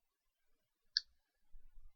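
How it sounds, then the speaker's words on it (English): Wire cutters snip through armature wire in one sharp, faint click near the middle, followed by a soft low handling thud, otherwise quiet. "cut it with wire cutters"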